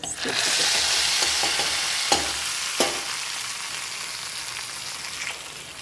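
Tempered mustard seeds and fenugreek go into a buttermilk curry with drumstick leaves, giving a close, steady sizzle with soft stirring scrapes and a couple of brief clinks.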